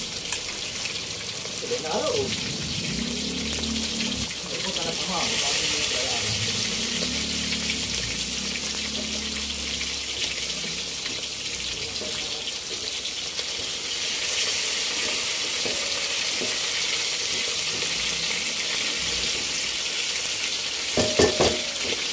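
Chili and onion sizzle in a frying pan for a sweet and sour fish dish, a steady broadband hiss with occasional stirring clatter and brief talk over it early on.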